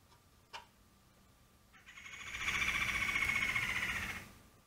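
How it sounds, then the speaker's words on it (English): An outdoor bird call rises into a sustained, strident trill for about two seconds after a faint earlier chirp, heard alone at a moderate distance. "You guys hear that bird up there?"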